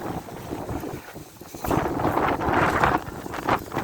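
Gusty wind on a cold December day buffets the microphone as a broad, steady roar that swells louder midway and stays strong to the end, with no voices.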